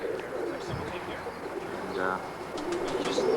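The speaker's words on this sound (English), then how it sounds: "this is some pretty interesting looking birds. Here's his loft." Pigeons at a loft give soft, throaty coos, with one clear rolling coo in the middle, over a busy outdoor background of faint chirps and rustling.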